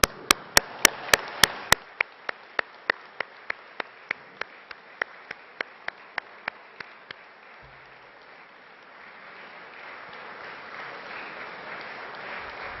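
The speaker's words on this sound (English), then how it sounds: "Give them a huge round of applause." Applause at a summer graduation ceremony for graduates' families, friends and supporters: a steady wash of many hands clapping in a large hall, with sharp regular clicks over the first seven seconds before the clapping continues alone.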